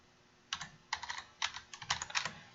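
Quick bursts of keystrokes on a computer keyboard, several short clusters of light clicks close by and quiet, with no talking.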